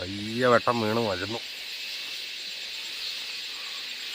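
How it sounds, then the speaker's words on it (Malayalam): Crickets chirp at dawn beside a river, a steady shrill drone that runs unbroken through the whole stretch, with a brief spoken phrase near the start. "ഇന്ന് കിളികൾ കരയുന്നതിന് പകരം ചീവീട്."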